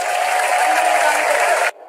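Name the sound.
applause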